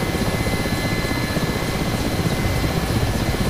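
Mi-8 helicopter in the DCS flight simulator game: a continuous, even rotor and turbine roar fills the whole stretch, steady and close with no voices over it.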